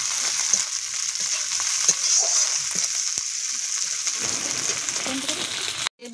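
Red chillies frying in hot oil as ginger paste goes in, a steady close sizzle with stirring scrapes throughout, cutting off abruptly at the end.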